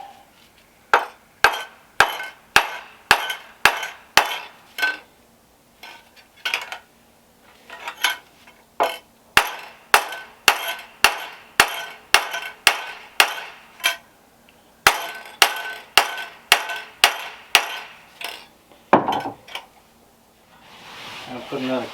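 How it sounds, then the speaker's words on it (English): Mallet hammering a part down into place on a compost toilet build at an off-grid homestead, a long series of sharp, evenly spaced knocks, close and loud, with brief pauses between runs of blows. "let's get our mallet. See if we can't hammer this down on there."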